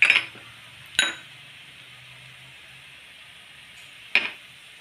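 Spices sizzling and frying in a pan over a lowered gas flame for a Marathi taro leaf curry (aluche fatfate), with faint steady hiss and a few sharp clinks of a utensil against the pan.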